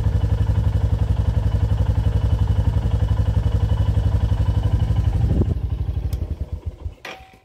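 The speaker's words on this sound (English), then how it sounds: "Engine's lovely and quiet." A Royal Enfield Classic 350 motorcycle idles with a steady, close, rhythmic single-cylinder thump, then shuts off and goes quiet with a few clicks near the end.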